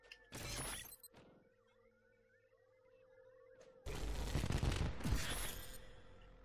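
Gunshots in the video game OBEY, a sharp loud blast early, then a quieter stretch with faint electronic tones, followed by a long crackling burst of heavy fire near the end.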